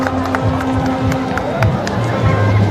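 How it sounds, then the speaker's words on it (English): Spectators at a FUFA Drum provincial football match between Lango and Ankole chant and cheer as a mass of voices, a loud, steady crowd roar with rhythmic shouting throughout. "The crowd currently chanting a lot in here, trying to push the boys on"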